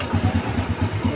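Engine of a Honda Grand motorcycle starting and running, heard as a quick, steady low puttering pulse close by with no talking.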